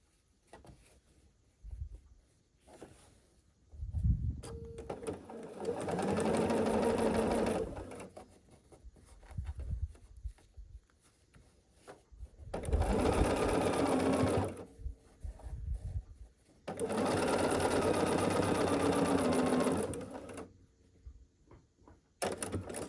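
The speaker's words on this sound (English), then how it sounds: "we're going to sew this longer seam together to get our half square triangle unit" A sewing machine stitches a long seam joining quilt fabric into a half-square triangle unit, running in three sustained bursts of steady motor hum and needle chatter with short pauses and light handling noises between them.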